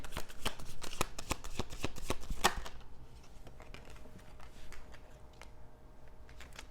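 Tarot cards are shuffled and laid out: a dense run of rapid crisp card riffles and flicks up close, then quieter sliding and soft taps of cards being placed in a low background.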